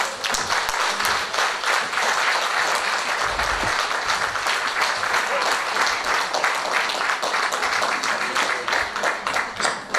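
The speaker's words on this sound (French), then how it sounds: "Armand et Pauline, une bonne main d'applaudissements." An audience at a family and seniors' fair claps steadily for a couple on stage, a dense, even wall of applause sustained throughout at moderate loudness.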